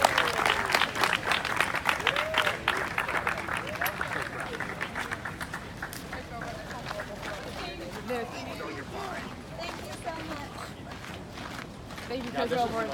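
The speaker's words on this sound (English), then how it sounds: "Big round of applause." Applause from a crowd at a softball senior night, sustained clapping with scattered cheers that slowly tapers over several seconds, heard from a distance, with faint talk and crowd murmur mixed in.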